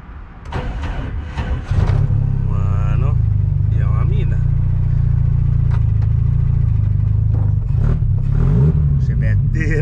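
A Chevrolet Chevette car accelerating on a street, its engine drone loud and steady, rising and holding over several seconds, with a voice talking over it near the start.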